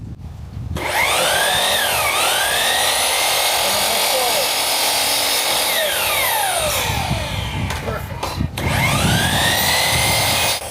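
A power tool cuts through PVC pipe during the restoration of a 45-year-old Boston Whaler boat, giving a loud, steady, close whining buzz with sweeping pitch changes for about ten seconds before a brief pause and restart.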